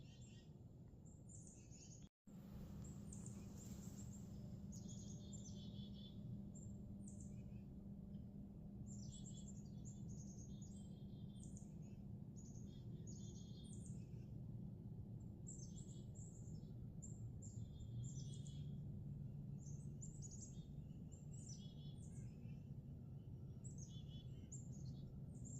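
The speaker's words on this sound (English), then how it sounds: "Chickadees are moving through." Chickadees call at dawn in woodland on the opening day of Wisconsin rifle season. Repeated thin, high chirps and short call phrases sound at moderate distance over a constant low background rumble, with no talk.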